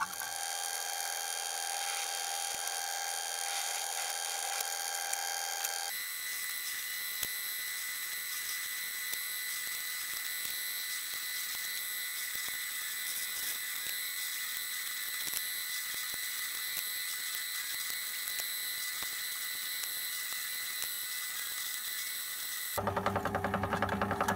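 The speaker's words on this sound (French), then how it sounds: "À la perceuse moi je vais le faire à la perceuse à colonne, au moins ça sera droit." A drill press boring 3 mm pin holes in MP44 airsoft magazines: a steady high mechanical whine and grinding that runs without a break, with a tonal shift partway through and a louder burst at the end, no voices.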